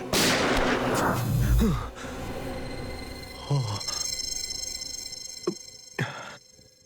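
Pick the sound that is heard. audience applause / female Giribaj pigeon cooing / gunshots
gunshots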